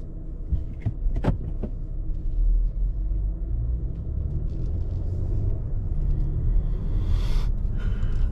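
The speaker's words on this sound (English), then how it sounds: "we are driving in this big, comfortable K900 luxury sedan" A 2019 Kia K900 luxury sedan drives along, its cabin filled with a steady, loud low road rumble, with a few sharp clicks and knocks near the start.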